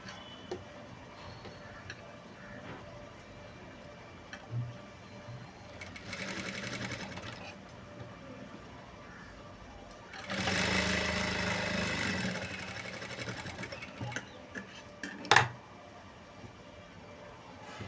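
A sewing machine stitches a blouse in two distinct bursts of rapid, even whirring, with quiet handling noises and a sharp click between them.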